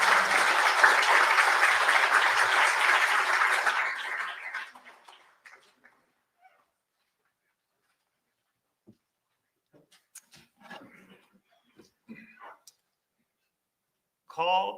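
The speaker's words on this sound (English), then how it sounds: "Let's give Sean a round of applause." A crowd at a memorial ceremony for the Edmund Fitzgerald shipwreck anniversary applauds loudly for about four seconds, then the clapping fades into near silence broken by a few scattered sounds.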